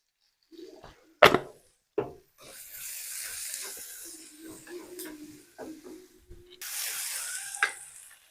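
Fennel seeds and curry leaves sizzle and crackle in hot oil in a pan, with scattered pops and scraping stirs; a voice speaks faintly in the background at times.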